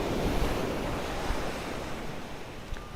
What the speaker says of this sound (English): You guys hear these waves? It's so nice.